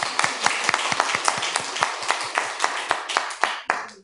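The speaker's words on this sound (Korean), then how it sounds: "박수 한번 해주세요. 박수." Congregation in a Korean Sunday church service claps for a child at baptism, a lively round of many hands with distinct sharp claps standing out, steady for about four seconds before trailing off.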